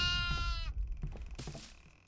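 A goat bleats in the horror video game Devour, one wavering, strongly harmonic cry up close, followed by softer shuffling and rustling sounds.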